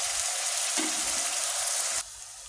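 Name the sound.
onions sautéing in a pan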